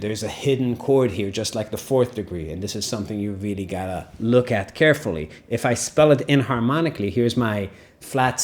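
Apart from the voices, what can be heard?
No distinct noise like a dog, phone or traffic.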